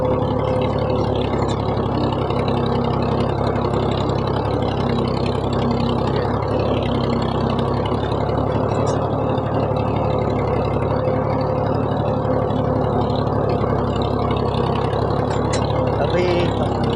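A tractor engine drones steadily while ploughing a farm field, a continuous mid-distance rumble with slight variations in load and no pauses across the whole stretch.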